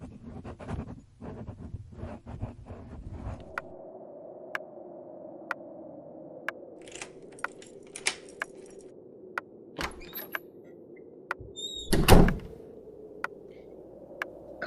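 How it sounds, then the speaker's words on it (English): A key jangles and scrapes in a door lock, followed by a sharp click and a door swinging open late on, set in a quiet room within a gothic radio drama; sparse ticking clicks sit over a low background. "How did you open the door?"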